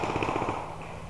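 Paintball guns fire a quick, rhythmic string of close, punchy pops during a paintball game outdoors, fading after about half a second.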